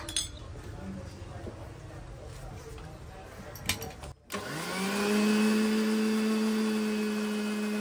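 An electric grinder whirs as milk is ground in, starting after about four seconds as a steady loud motor whine that holds to the end, with clinking and household noise before it.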